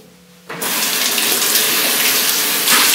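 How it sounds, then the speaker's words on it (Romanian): Cold tap water is turned on for rinsing the face at a sink. After a quiet start it bursts into a loud, steady splashing rush that continues close by without pause, with no talking. "Acum trebuie să clătim cu apă rece pentru a închide porii."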